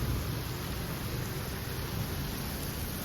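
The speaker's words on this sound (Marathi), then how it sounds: "लय जोरात अचानक पाऊस आलाय." A sudden, heavy downpour with lightning in the area, caught outdoors on a road near Nigdi: a dense, steady roar of rain, close and loud throughout, with no talking.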